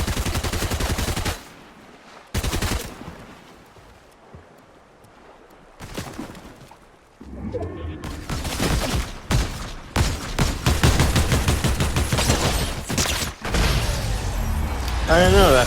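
Video game gunfire from Fortnite during a headshot challenge: bursts of rapid shots and single cracks come in clusters, loud and close, with quieter gaps between and some voice chatter in the mix.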